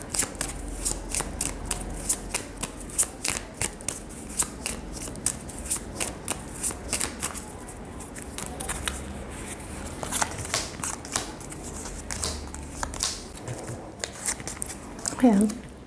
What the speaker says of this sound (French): Je viens de mélanger. Vous avez vu, j'ai tourné les cartes, je les ai mélangées.